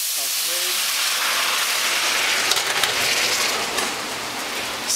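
Beef broth and water poured into a hot pan holding crunchy browned bits from peppercorn steak hiss and steam loudly and steadily, close up, without talk.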